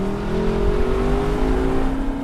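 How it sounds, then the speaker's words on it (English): A 2021 Lexus LC 500 convertible with its V8 growls loudly and steadily, its engine note rising slowly as it accelerates, with no talk. "Let's get back to that engine growl."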